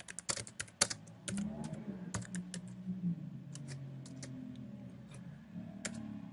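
Someone types on a computer keyboard, quiet close key clicks coming in quick irregular bursts with short pauses between them, without any talking.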